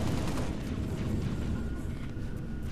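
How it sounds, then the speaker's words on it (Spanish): Dense, rumbling bursts of Halo: Reach gunfire crackle continuously for a few seconds, muffled and layered, with no voices. "Disparos. Magnum, armas de seguridad reglamentarias."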